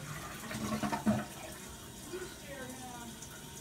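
Toilet being flushed, a soft gurgling rush of water with brief splashing swells, fairly quiet and close, fading into a trickle as the bowl refills.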